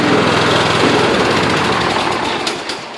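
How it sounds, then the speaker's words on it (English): Close, loud running of a 2000 Troy-Bilt lawn mower engine: a busy buzzing drone with rapid firing pulses that eases slightly near the end, with a few brief clicks and no voices. "Runs really good, as you can hear."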